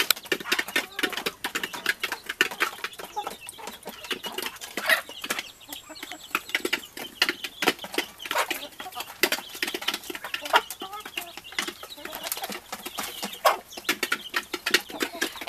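Chickens and a young rooster cluck and scratch softly on a rural smallholding, faint scattered clucks and rustling over a busy, crackly background throughout.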